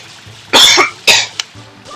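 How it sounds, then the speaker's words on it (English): Two loud, close coughs in quick succession, followed by a brief third catch, with no talking, from someone recording a Super Mario Sunshine gameplay session. "Damn, coughing."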